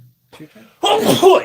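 A single loud, close sneeze bursts out abruptly after a few brief spoken words during a tabletop card game.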